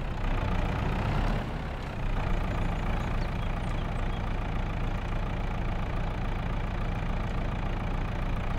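Tractor engine in the video game Farming Simulator 22 running steadily while driving, a continuous mid-pitched rumbling drone with a brief dip in loudness early on, with no voices.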